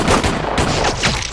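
Gunfire in a film scene of Japanese soldiers shooting in a village street: a quick run of loud, sharp shots in close succession, with no speech.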